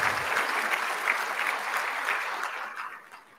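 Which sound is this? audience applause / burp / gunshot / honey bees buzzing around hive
audience applause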